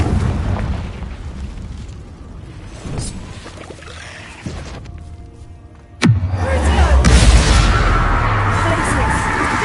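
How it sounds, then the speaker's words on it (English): A Confringo fire spell blast in Hogwarts Legacy bursts with a sudden loud boom partway through, then rolls on as a heavy, roaring rumble over the cave ambience. "Confringo!"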